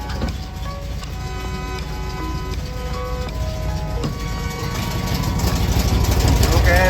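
A 1968 Baja Bug engine runs steadily during a transmission test, a continuous mechanical drone with tonal whine lines that shift in pitch as gears change, slowly growing louder toward the end.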